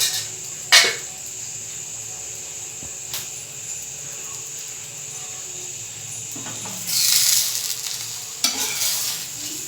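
Oil sizzling around an adai-style dosa made from idli batter as it fries on a pan, a steady close hiss with a few louder bursts and brief scraping knocks, and no talking.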